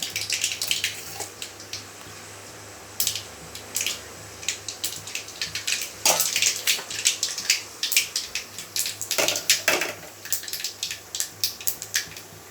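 Mustard seeds crackle and pop in hot oil while making beetroot poriyal, a dense run of sharp, irregular spits and sputters that rises and falls, close and fairly loud with no talking.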